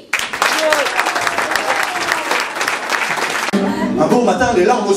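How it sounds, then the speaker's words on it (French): Loud, dense audience applause in a comedy club in Lourdes greets a performer, steady for several seconds before music and singing begin. "Je vous demande de l'applaudir bien fort"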